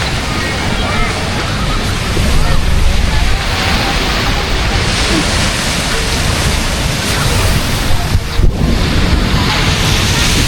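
Waves and wind at Puka Beach, Boracay, a loud, continuous wash of surf and gusting wind buffeting the microphone.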